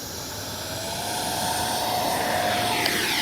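A steady jet engine roar with a high whine from an RC model L-39 jet taking off, building in loudness as it runs continuously, with no voices.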